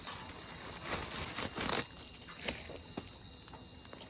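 An open plastic bag crinkles around a cardboard-packed Milwaukee M18 Fuel 1/2-inch cordless impact wrench as it is unboxed, with faint, scattered rustles and small crackles, close and quiet, no talking.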